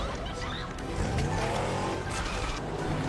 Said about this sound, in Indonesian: Carrie menghentikan mobil Chris.